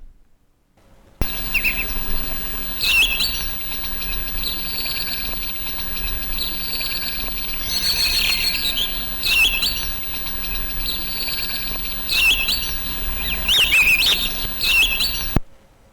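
Chirpy electronic beeps and warbling tones from a PC speaker play sound effects for the golf game World Class golf, with brief bursts rising over a steady buzzy drone, close and fairly loud.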